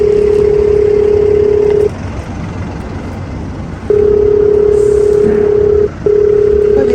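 A telephone line sounds a loud, steady electronic tone in long stretches broken by brief silent gaps while a call is being placed.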